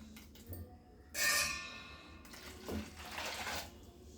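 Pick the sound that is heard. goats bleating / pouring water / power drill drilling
pouring water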